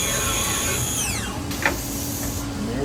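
A Tsugami BS20 CNC Swiss lathe runs its cycle with high whining spindle tones that sweep downward and fade, a short metallic clack in the middle, and a low steady machine hum underneath.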